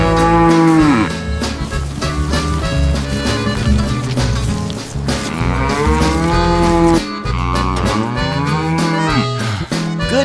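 Cattle on a farm moo loudly and repeatedly close by, with long drawn-out calls that overlap through the whole stretch and no talk.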